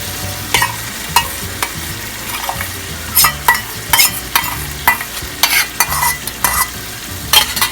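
Masala with coconut milk fries in a pan for a Thai-fusion golda prawn curry, a soft sizzle underneath repeated scraping stirs that come in an irregular rhythm close up, with no voices.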